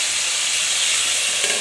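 Thick-cut potato pieces fry in a pan, giving a steady, close, bright sizzle and hiss that stays even throughout with no talking.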